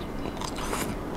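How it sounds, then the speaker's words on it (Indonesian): Someone bites and chews stir-fried green beans with salted egg, giving a brief, close, soft crunch and moist chewing sounds. "ini kita makan buncisnya"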